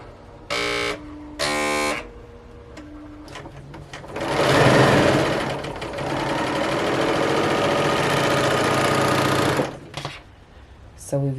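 A sewing machine runs in short bursts near 1 and 2 seconds, then stitches a seam on a tee in one long, loud, steady run of about six seconds. It uses non-matching thread, and handling noises fall in the pauses.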